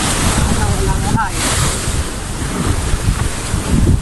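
Sea waves wash onto the shore with steady wind buffeting the microphone, a loud, continuous roar filling the scene while a voice speaks faintly in the background.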